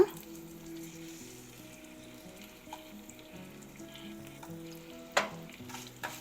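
Tamarind pieces sauté in a pan for a bajji chilli chutney, giving a steady close sizzle with stirring scrapes and one sharper clank of utensil against pan near the end.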